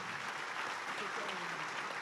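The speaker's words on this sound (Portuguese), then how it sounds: "Vamos aplaudir o Senhor mais uma vez?" A church congregation applauds the Lord during an evening service, a soft, steady wash of clapping heard from a distance, with faint voices underneath.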